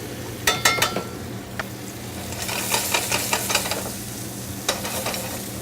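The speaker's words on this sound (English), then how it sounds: "we're going to add our clams in there as well" Clams, shallots, garlic and leeks sizzle steadily in a hot pan for seafood pasta, with a metal utensil clinking and scraping as the pan is stirred in quick bursts.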